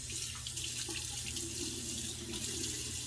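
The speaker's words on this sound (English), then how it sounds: "I'm gonna do a quick cold water rinse" A tap runs for a cold water rinse after a shave, a steady close hiss of water streaming into a sink without pause.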